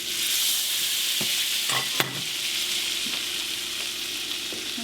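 Flour frying in a little oil in a pan for egg rolls, a steady close sizzle with a few stirring scrapes and a sharp utensil tap near the middle.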